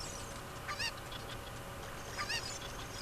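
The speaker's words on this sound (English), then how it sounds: "What, chicken? Get back here." A cucco chicken in Zelda Ocarina of Time clucks twice in short squawking bursts over a steady game background hum, fairly near and moderately loud.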